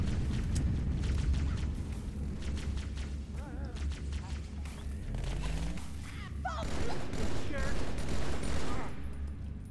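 Rapid gunfire from Halo 2, a loud sustained fusillade of shots and explosive booms with a voice talking over it throughout.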